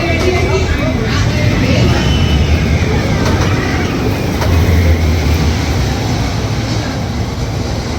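The Iron Rattler roller coaster at Six Flags roars along its track in a steady, loud rumble of wheels and rattling cars that fills the whole ride, with crowd noise mixed in.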